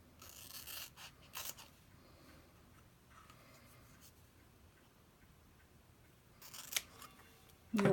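Sharp snips of scissors cutting paper, a few quick cuts near the start and again toward the end, in a quiet room.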